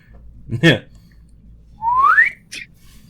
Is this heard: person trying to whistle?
yes